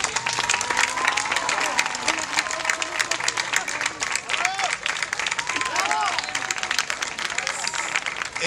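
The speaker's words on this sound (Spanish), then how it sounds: "creo que se merece un gran aplauso" Warm audience applause and cheering at a neighbourhood festival opening speech in Madrid, dense continuous clapping from a crowd with voices and murmur threaded through.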